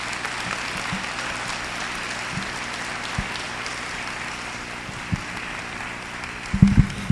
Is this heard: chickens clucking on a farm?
no